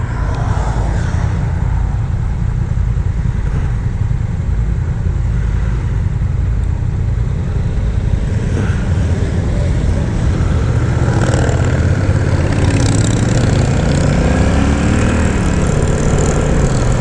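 A 2025 Honda Rebel 1100 DCT motorcycle engine drones steadily and loudly while riding at a demo rally, a continuous close engine roar with wind rush and gentle pitch shifts as the bike changes speed.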